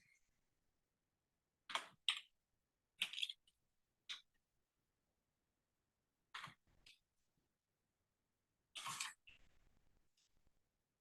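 Isolated bursts of computer keyboard typing during a math class lesson, a few quick clusters of clicks and taps separated by pauses, fairly close and moderately loud with no talk.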